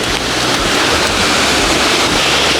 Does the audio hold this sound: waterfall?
yes